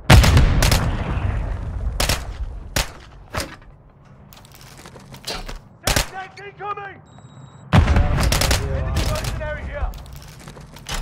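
Call of Duty MW3 gunfire in a multiplayer match: several sharp, loud shots and bursts spaced across the scene, including one longer burst near the end, with quieter game sounds and occasional voices between them.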